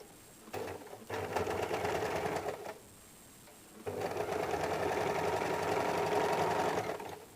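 A sewing machine stitches the shoulder joint of a size 34 belt blouse in two steady whirring runs, a short burst and then a longer one, separated by a brief quiet pause.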